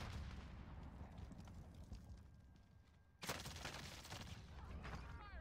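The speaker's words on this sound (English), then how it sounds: "Oh, he's shooting." Gunfire in Call of Duty Warzone rumbles as a dense, low, continuous barrage that swells sharply partway through into a louder, brighter burst of shots and blasts.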